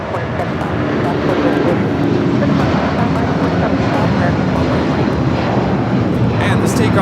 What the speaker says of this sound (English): taking off to Newark on the 757-200